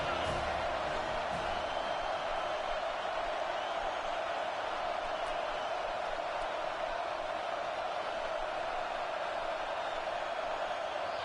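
Steady roar of a packed stadium crowd in a college football video game, a constant wash of noise with no breaks, moderately distant and even throughout.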